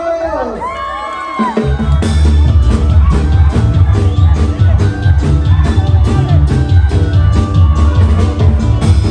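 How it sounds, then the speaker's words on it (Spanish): A carnival closing award ceremony with a band, where a crowd cheers and applauds loudly and continuously after a quiet opening moment, with shouts and whoops rising over the dense roar. "Que se escuchen los aplausos."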